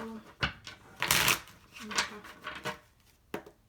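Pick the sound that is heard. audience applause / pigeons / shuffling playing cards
shuffling playing cards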